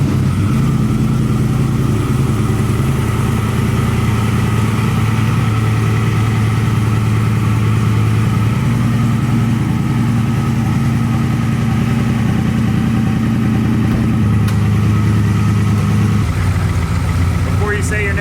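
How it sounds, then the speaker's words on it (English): A turbocharged LS-powered street truck engine idles steadily while warming up, a loud, close, continuous low rumble with a brief dip and shift in tone near the end. "So now we got to warm this thing up and give it a shot."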